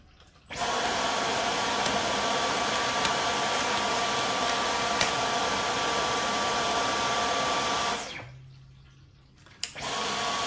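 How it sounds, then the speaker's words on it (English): A Dyson V15 cordless vacuum grooms a dog's loose pet fur, giving a loud, steady motor whine for about eight seconds, then cutting out briefly before starting up again. "let's try and see if the vacuum works again"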